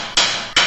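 Two loud, sharp hammer strikes, each a bright metallic hit that fades quickly, spaced about 0.4 seconds apart with no talk.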